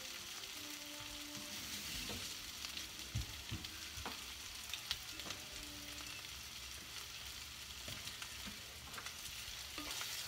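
Beef sizzles in a hot pan with onions and green peppers for a cheesesteak sandwich: a continuous, fairly soft frying hiss broken by a few stirring knocks and scrapes.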